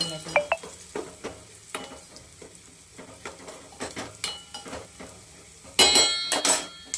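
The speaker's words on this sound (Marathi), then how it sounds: "हिंग टाकूयात आपण आणि ह्या दोन लाल मिरच्या टाकूयात आपण त्याच्यात मस्त हलवून" Asafoetida and two dried red chillies hit hot oil for a tadka while a spoon stirs, giving a soft sizzle with repeated clinks and scrapes against the pan, and a louder burst of crackle near the end.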